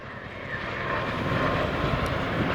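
A P-51 Mustang propeller aircraft drones steadily overhead, a broad rumbling engine roar that swells slightly louder, heard alone.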